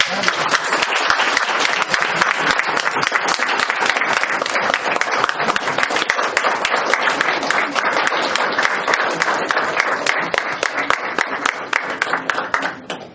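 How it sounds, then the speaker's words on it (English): Dense, sustained applause from an audience at a Toastmasters educational session on table topics, loud and steady for the whole stretch with no voices. "Let's have one more round of big applause."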